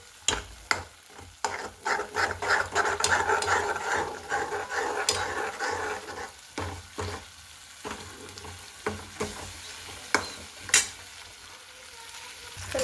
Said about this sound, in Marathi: चला आता मी हे वाटण मिक्स करून घेते.